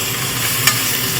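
Tomato fries in a pan as it is stirred, giving a close, steady sizzle with one sharp scrape partway through.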